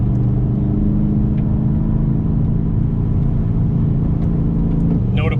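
A 2020 BMW M8 Competition Coupe cruising at 190 km/h, its engine giving a steady loud low drone and rumble with road and wind noise throughout, nearby and continuous.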